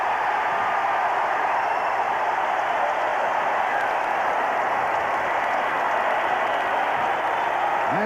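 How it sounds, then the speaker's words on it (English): A large baseball crowd at Shea Stadium during a 1985 Mets game cheers steadily for Gary Carter's home run, a dense, continuous roar of voices and applause that holds at full strength from start to finish. "another great crowd at Shea, standing and cheering in unison, waiting for Gary to come out"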